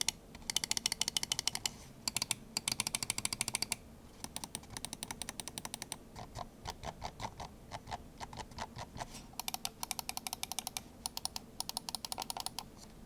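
Computer mouse buttons clicked in quick bursts, crisp close-up ticks coming in rapid runs separated by short pauses, quiet and alone with no voices.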